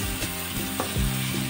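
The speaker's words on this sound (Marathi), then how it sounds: "आता आपले मसाले पण चांगले परतवले गेले आहेत" Spices sizzling and frying in hot oil in a pan for a Shimla mirchi batata bhaji, a steady close crackle with a few soft scraping stirs and no talk.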